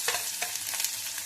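Finely chopped onion hits hot oil with fried garlic in a pan, giving a bright steady sizzle with soft stirring scrapes on top, close and fairly quiet.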